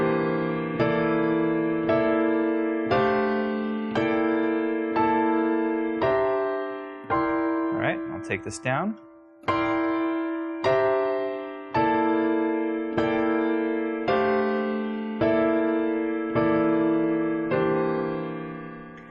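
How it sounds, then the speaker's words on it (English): A steady series of sustained piano-like C dominant 7 chords in quartal voicings, struck one after another at an even pace, with a brief spoken aside in the middle. "here's what C dominant 7 will sound like using these fourth voicings"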